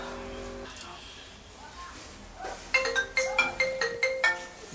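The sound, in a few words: phone ringtone ringing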